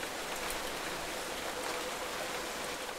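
Heavy rainstorm in the Nancy Drew video game Secret of the Old Clock, a dense steady hiss of falling rain with faint patters and drips throughout, loud and unbroken with no voices.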